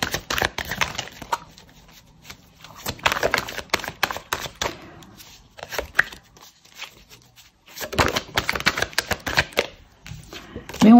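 Tarot cards are shuffled close up, giving repeated crisp riffling and flicking bursts with short pauses, while someone speaks French in between.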